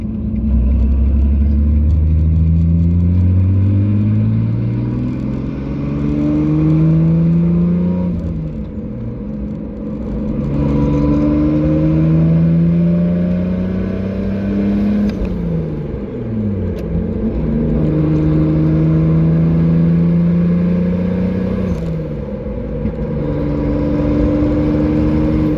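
A Nissan 350Z pulls onto a highway and accelerates through several gears. The engine note rises steadily in each gear, drops briefly at every shift, then climbs again, loud and close throughout.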